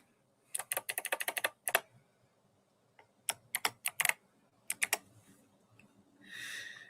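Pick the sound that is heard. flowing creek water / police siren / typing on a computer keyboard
typing on a computer keyboard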